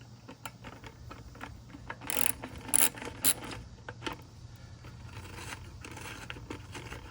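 Wrench work on a rusty 10 millimeter bolt on an aluminum boat trailer: a run of close metallic clicks and scrapes, with a few louder clanks in the middle, over a low steady background hum.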